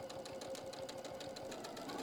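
Sewing machine stitching fabric with a fast, even rhythmic needle chatter and a faint motor hum, close and steady throughout.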